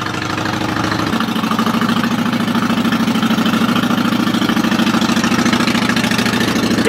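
Triumph 675cc motorcycle engine idling steadily at close range, with a slight shift in tone about a second in, then a continuous even throb with no other sounds over it.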